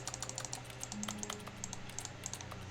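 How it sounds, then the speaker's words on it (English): Quiet, rapid keyboard typing clicks from a video game, a string of light keystrokes in an irregular rhythm over a faint low hum. "Every time I click is a keyboard sound"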